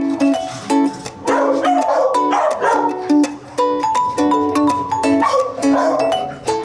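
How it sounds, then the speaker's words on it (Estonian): Several dogs at a dog hotel barking loudly and repeatedly close by, overlapping yaps and barks in irregular bursts with no pauses. "Kui võõraid ei ole, siis koerte hotelli elanikud nii suurt lärmi ei tee."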